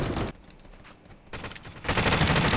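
An M4A1 rifle fires in a free-to-play shooter game, with a loud burst of automatic fire at the start, a quieter gap, then another stretch of rapid, dense shots, close and intense.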